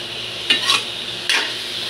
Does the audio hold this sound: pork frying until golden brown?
yes